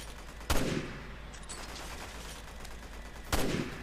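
Two sharp, loud gunshots ring out about three seconds apart in the video game Resident Evil 6, each followed by a short decaying echo over quiet background ambience.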